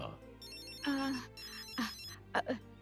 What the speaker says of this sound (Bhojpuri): बेटा तोहार फोन बजाता, देखा था के कर